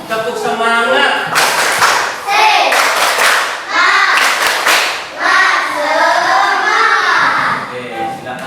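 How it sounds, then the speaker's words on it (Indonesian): Children in a Christian religious education classroom perform a rhythmic spirit clap, bursts of patterned clapping and thumps alternating with chanted kids' voices, loud and close, in several short phrases. "Tepuk semangat."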